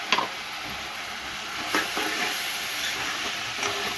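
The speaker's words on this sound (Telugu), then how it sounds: "ఒక 3 ఉల్లిపాయలు చిన్న ముక్కలు 4 పచ్చిమిరపకాయలు త్వరగా వేయించుకోవాలి." Finely chopped onions and green chillies sizzle in hot oil with salt added, a steady close frying hiss broken by a few short stirring scrapes, with no one speaking.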